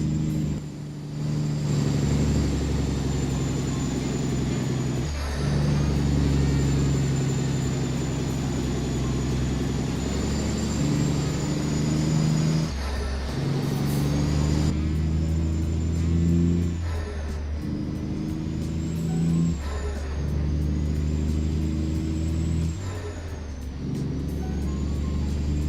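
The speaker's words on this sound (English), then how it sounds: "this truck's definitely growing on me. It does sound pretty damn good." A heavy haul truck engine in American Truck Simulator drones steadily with a deep, throaty rumble, its pitch rising and dipping as it works through gears, loud and close with no talking.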